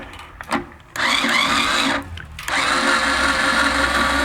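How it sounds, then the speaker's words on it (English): A string winder spins against a classical guitar tuning peg to loosen the strings, giving a steady close whirring buzz in two long bursts after a short initial spin, with brief pauses between. "Now, the string winder can go two different ways. It can tighten or loosen."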